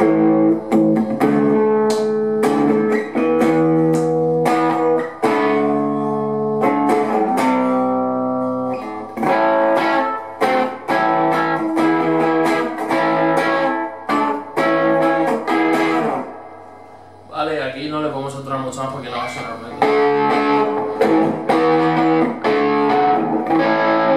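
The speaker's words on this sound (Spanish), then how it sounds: "Vamos a ponerle un pelín de drive," Epiphone Wildkat hollow-body electric guitar with Bigsby, played through a light overdrive for a classic tone: strummed chords and picked phrases, loud and close, with no talking.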